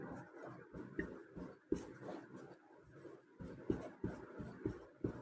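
Pen scratching on paper while solving a Class 10 math problem, close-up strokes in short irregular bursts with brief pauses between them.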